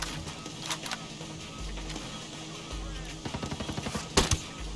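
Machine gun fire in the video game Ghost Recon Breakpoint, rapid rhythmic bursts of shots at moderate loudness over a busy game soundscape, with a sharper cluster near the end.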